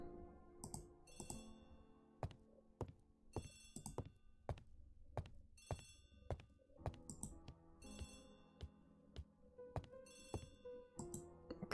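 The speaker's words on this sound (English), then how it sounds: "Answer the phone." An old-fashioned telephone bell rings repeatedly in sharp, rapid metallic bursts, loud and close, with brief gaps between rings and no voices.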